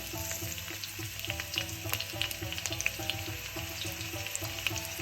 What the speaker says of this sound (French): Je fais revenir déjà le piment dans l'huile. J'y ajoute les oignons.